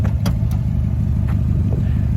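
A 2015 Subaru WRX STI cruising along, its engine and road noise forming a steady, close low rumble throughout, with a few brief sharper sounds over it.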